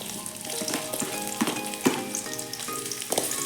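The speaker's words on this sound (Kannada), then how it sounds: "ಎಣ್ಣೆ ಕಾದಿದೆ. ಒಂದು ಅರ್ಧದಷ್ಟು ಈರುಳ್ಳಿ ಹಾಕೋತಾ ಇದ್ದೀನಿ." Onion sizzles in hot oil in a pan, a steady close crackling hiss broken by a few sharper pops and stirring clicks.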